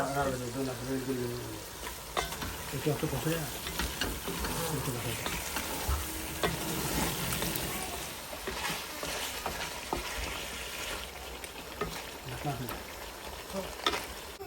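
Dried fish curry with eggplant and potato sizzles and fries in a pan while being stirred, a steady close crackle running throughout beneath people talking.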